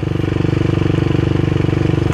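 A blue Honda CBR150 v1 motorcycle engine drones steadily while being ridden, close and loud, with a fast, even pulsing throughout.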